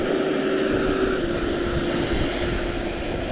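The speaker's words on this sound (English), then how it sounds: "Taking off into the wind." An FMS 70mm EDF model jet, a Viper or Yak 130, takes off into the wind with a steady, loud ducted-fan whine and roar that holds at full power throughout, with no talking.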